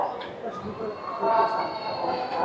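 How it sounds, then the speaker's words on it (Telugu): Hazrat Nizamuddin railway station, with a low rumble of trains and a faint metallic squeal carrying through the platform ambience, moderately distant and quiet. "నిజాముద్దీన్ రైల్వే స్టేషన్లో ఉన్నాం."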